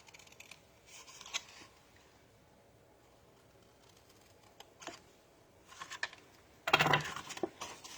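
Scissors cutting paper on a diagonal for a patriotic candy favor, with faint, scattered snips across a quiet room and a louder cluster of cuts near the end.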